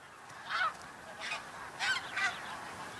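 Snow geese honking out in the Arctic nesting grounds: four separate loud calls, with two close together near the middle and a pair near the end, over a steady breezy background.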